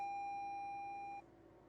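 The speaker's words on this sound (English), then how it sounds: "The vehicle doesn't like me, it likes to beep at me" A single steady electronic beep sounds for about a second during diagnostics with an XTOOL Advancer AD20 Pro scan tool connected to a running vehicle, then stops abruptly, leaving faint background hum.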